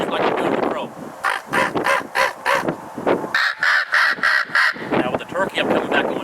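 Someone talks, then blows a run of about ten sharp, loud caws from a Grounds Thunder call, using throat pressure to imitate a crow, and resumes speaking after the calling.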